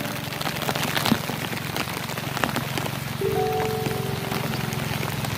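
Rain falls steadily outdoors, a dense close patter on surfaces that continues without a break, with a low hum briefly underneath and no talk.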